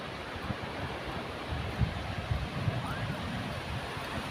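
Sea waves rolling onto a beach, a constant low roar of surf with light wind rumble and a few soft thuds of breaking water, fairly faint and without voices.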